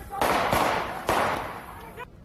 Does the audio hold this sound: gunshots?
yes